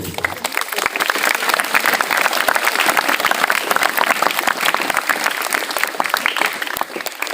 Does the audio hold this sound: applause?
yes